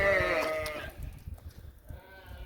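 Sheep bleat loudly and close by at the start, a layered livestock call that fades within the first second, leaving low rumbling handling noise and faint farm ambience.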